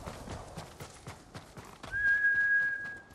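A horse's hooves clip-clop in a steady rhythm in Ghost of Tsushima, followed by a sustained high whistle-like tone near the end, with no talking.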